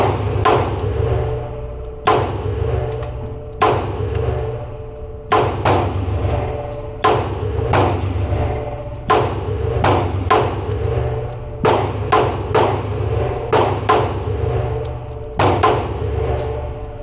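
Ten rounds fired from a Springfield Armory Echelon pistol on a shooting range, loud sharp reports at an irregular pace, some spaced well apart and some in quick pairs, each trailing off in a short echo.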